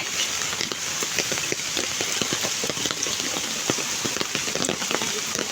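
Heavy rain pours steadily in Olongapo, Philippines, onto muddy red soil, a dense hiss of drops pattering on surfaces all around, with occasional sharper splashes.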